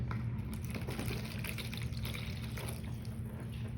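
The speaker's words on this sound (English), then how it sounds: "we're gonna add the water to it" Water poured into a bowl for a home science experiment with colors, heard as a steady, even rush of liquid over a low hum, continuous for a few seconds with no talking.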